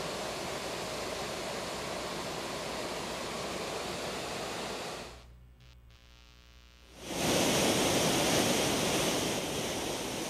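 The El Salto waterfalls in El Naranjo roar as a steady, broad rush of falling water, briefly dropping out for a moment before returning louder and continuous.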